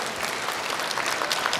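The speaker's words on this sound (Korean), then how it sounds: "여기서 박수 안 나올 수 없겠네요" Steady, fairly loud applause fills the hall from a lecture audience honoring a mountaineer's account of his summit, continuous clapping with no talk.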